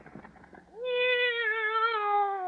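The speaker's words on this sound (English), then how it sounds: "maybe my cat can hide out here for the day" A cat lets out one long, loud, wavering meow that starts after a moment of faint background noise and sustains close by until the end, with no one speaking over it.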